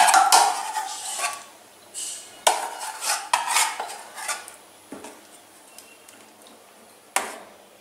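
Palm fruit pulp goes into thickened milk in a pot for taal kheer, with sharp clinks and scrapes of a spoon against metal, several clattering strokes fading between hits, close and clear with no talk.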